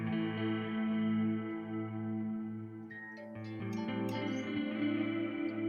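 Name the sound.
shimmer-like reverb on guitar wet path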